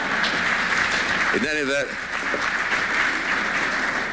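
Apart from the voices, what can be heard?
audience applause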